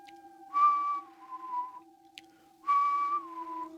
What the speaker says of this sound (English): she hears whistling